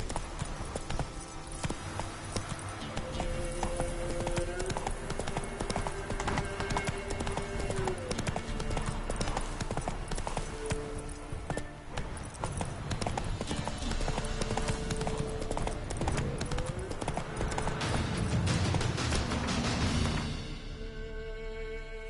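The horse Roach gallops in a video game, a continuous fast clip-clop of hooves under loud game music and ambience, with a brief voice at one point.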